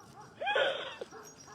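Dogs at a farm house giving a single faint, distant whimpering bark-like yelp in a quiet room, brief and muffled.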